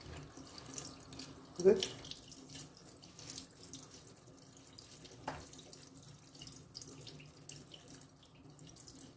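Cold tap water runs from a faucet over cooked Barilla pasta in a kitchen sink, a soft steady splashing with a few louder spatters, while someone speaks briefly over it.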